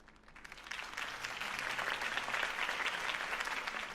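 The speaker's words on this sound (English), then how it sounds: "If only Mr. Wayne, my campaign's largest backer, could have heard that applause" Crowd applause at a political rally in the video game Batman: The Telltale Series swells from a quieter start into a full, sustained wash of clapping that stays strong to the end.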